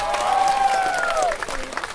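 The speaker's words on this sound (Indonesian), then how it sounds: "Tepuk tangan untuk Anda semua" Applause from a seminar audience swells briefly with a crowd murmur, while a sustained tonal voice or music line rides over the clapping for two seconds.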